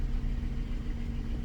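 A Jaguar car engine idles with a steady low rumble and a constant hum, even and unchanging through the short stretch, with no voices.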